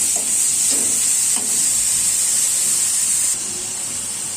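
Carrot sautéing in a pan for a carrot sandwich snack gives a steady, bright sizzle and hiss close by, with faint stirring scrapes and a slight drop in intensity near the end.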